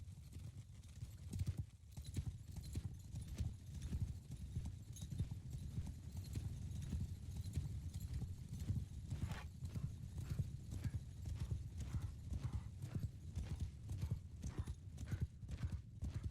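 Galloping horse hooves drum in a steady, rapid clip-clop while riding in Mount & Blade 2, loud and continuous, with a brief whinny partway through and faint game ambience beneath.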